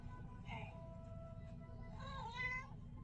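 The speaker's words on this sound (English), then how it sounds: "Oh, that meow." Two clear meows from a cat, a short one early and a longer, rising, drawn-out one later, sound fairly close over a low background hum.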